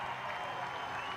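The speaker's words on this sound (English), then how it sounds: "a big round of applause" A crowd applauds at an Indian Air Force Day air show on Marina Beach in Chennai, a faint, steady wash of clapping heard from a distance without a break.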